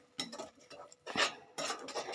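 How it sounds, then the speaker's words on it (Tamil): A spoon briskly whisks curd in a bowl while making mushroom masala, in short bursts of wet scraping and clinking against the sides, close and fairly quiet, with no speech. "தயிர் எடுத்து நல்லா எப்படி கட்டிகள்லாம் இல்லாமல் அடிச்சுக்கோங்க."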